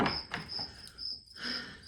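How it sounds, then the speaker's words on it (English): Crickets chirping loudly and close by in repeated high trills, with brief pauses and some faint background noise. "apparently have crickets everywhere and they're so loud out here"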